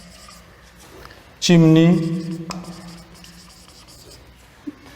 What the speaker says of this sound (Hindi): चलिए लिखता हूं मैं